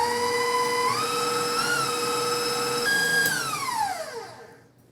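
Electric hand mixer whipping egg whites for a sponge cake layer, a steady whirring motor hum that shifts pitch upward partway through, then winds down as it is switched off, close and loud with no talk.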